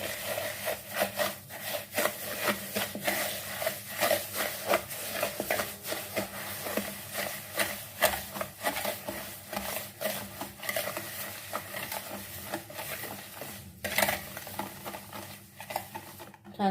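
Egg whites and sugar are mixed in a bowl, giving a steady scraping and stirring rhythm with quick repeated strokes against the bowl, close and continuous.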